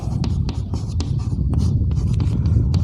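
Chalk scratches across a classroom board during a Hindi-medium Class 10 science lesson on light refraction, a run of sharp, quick strokes and taps close by, with no talking.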